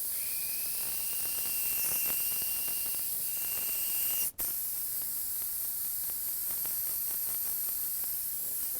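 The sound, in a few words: spray gun spraying candy red paint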